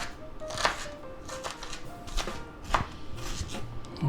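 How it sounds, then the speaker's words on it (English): A knife chops beef, onions and peppers on a cutting board for quesadillas, with about half a dozen crisp, uneven thwacks close by and no talking. "Chop that up a little."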